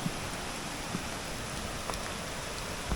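Constant hiss of heavy monsoon rain pouring down at a campground on Doi Inthanon, broken by a few faint soft taps, no one speaking.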